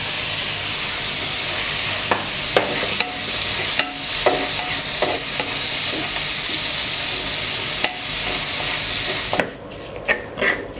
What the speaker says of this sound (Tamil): வெங்காயம் வெந்துச்சா இப்போ வதங்கிட்டு இருக்கம்மா